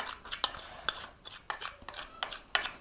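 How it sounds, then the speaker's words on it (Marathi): A metal spoon clinks and scrapes in a small bowl, mixing turmeric and salt in quick, irregular taps at close range, with no other sound. "हळद आणि मीठ 1 चमचा घेऊन ह्याला आपल्याला मिक्स करून घ्यायचे"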